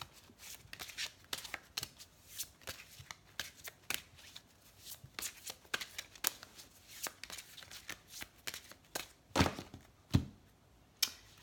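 Fairy oracle cards shuffled by hand in a steady run of crisp, close riffling slaps and flicks, with a few louder thumps near the end and no talking.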